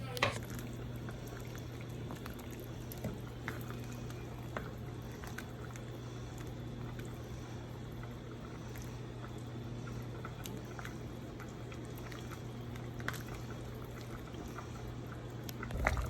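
Bow tie pasta boiling in a pot on the stove: a steady, continuous low bubbling and rumble that holds evenly throughout, close and fairly quiet.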